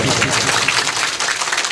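An audience at a village ceremony claps loudly to welcome the chief guest, a dense, continuous patter of many hands close by with no voices.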